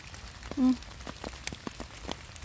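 Winter rain falls in a German forest during mushroom picking, scattered drops ticking sparsely and softly on nearby surfaces, with a brief low tone near the start.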